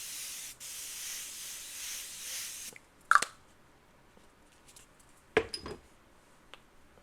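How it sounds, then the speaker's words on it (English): A hydrating setting spray is misted onto a face, a soft, fine hiss lasting a couple of seconds, followed by a few quiet clicks and taps from handling the bottle. "the Translucent Hydrating Ultra Blur Setting Spray. I've been using this one lately and I'm really enjoying it. So it has a really, really fine mist."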